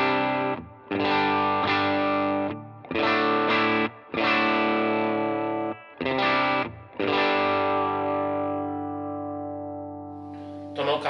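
Distorted electric guitar chords played through a Jackson Audio Golden Boy overdrive pedal set flat into a clean Vox AC30 amp, several sustained strummed phrases with short gaps, the last chord ringing out and fading.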